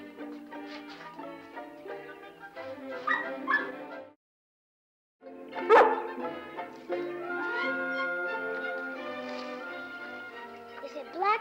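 A wet puppy whimpers and yips in a run of high, thin cries, with a short silent gap, then more whining and yelps close by.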